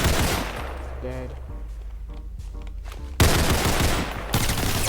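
Rapid gunshots ring out in the Roblox game Criminality, a short quick volley at the start and then a loud burst of fire near the end, with quieter clicks between.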